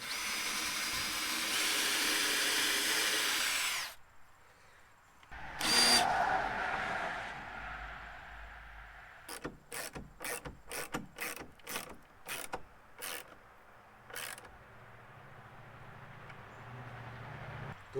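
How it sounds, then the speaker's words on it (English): A power drill bores a pilot hole in a wooden six-foot fence panel gate in a long close burst. Then come a short whir and a run of sharp, evenly spaced ratcheting clicks as a bolt is driven in, with no talking. "Now I'm going to get this second pilot hole drilled and this bolt in."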